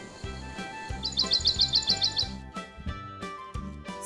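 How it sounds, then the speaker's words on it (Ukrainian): A nightingale sings in a children's cartoon, a quick run of bright, evenly spaced chirps heard alone over soft plucked background music. "Слухай, це ж соловейко."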